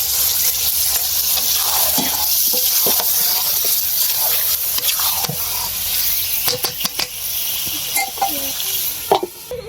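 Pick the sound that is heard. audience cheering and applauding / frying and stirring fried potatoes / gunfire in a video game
frying and stirring fried potatoes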